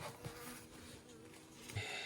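Honey bees from a struggling colony buzz continuously at close range, a dense, steady hum with no voices over it.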